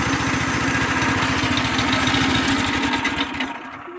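A Predator 212 small engine mounted on a steel plate in a golf cart runs steadily at close range, with a loud, even chugging putter that eases off slightly near the end.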